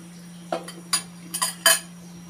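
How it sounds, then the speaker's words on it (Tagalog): A metal lid clinks back onto a cooking pot of simmering pork rib soup, a few short sharp metallic taps and rattles close up over a steady low hum. "Takpan ulit natin guys, papaluin natin."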